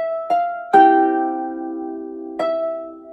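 A harp plays the tune Raglan Road with both hands together, a few plucked notes ringing out and sustaining, each attack sharp then slowly fading, heard up close with no talking.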